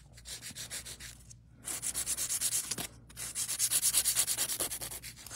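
An electric nail file buffs builder gel nails in rapid, rhythmic strokes, a close, steady grinding rasp that pauses briefly twice between passes.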